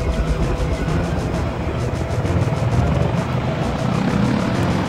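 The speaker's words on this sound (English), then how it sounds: "We're gonna grab a helicopter." Helicopter in the Nintendo 64 game Body Harvest, a steady loud rotor drone with rhythmic chopping that holds for the whole stretch, with a faint voice now and then underneath.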